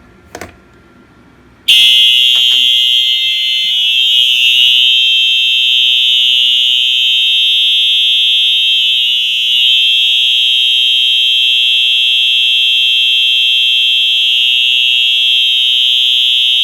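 A newly acquired smoke alarm is triggered after a short bump and shrieks with a loud, steady, piercing tone that holds without a break for about fifteen seconds.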